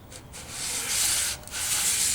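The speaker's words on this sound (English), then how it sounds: "So we're going to try sanding that now." Hand sanding a wooden guitar headstock scarf joint, a steady abrasive rubbing that runs continuously with a brief pause midway, close and fairly loud with no voices.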